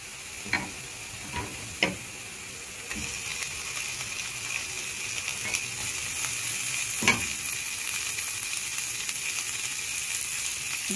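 Beef frying in a pan with onions, a steady sizzle throughout with several sharp clinks and scrapes of a utensil stirring the pan, no voices.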